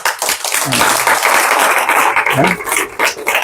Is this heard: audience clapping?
yes